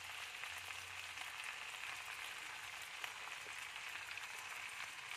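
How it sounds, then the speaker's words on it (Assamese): Ground spice paste sizzles steadily in a frying pan while cooking local murgi mankha, a continuous soft crackling hiss that stays even and fairly faint. "এয়া সেইকাৰণে মই পিচি থোৱা মছলাখিনি ঢালি দিছোঁ।"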